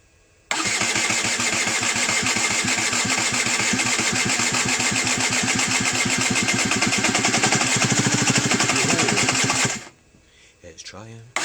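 A rebuilt Derbi Senda motorcycle engine churns and sputters loudly and steadily for about nine seconds, then cuts out abruptly, leaving a few faint clicks and shuffles.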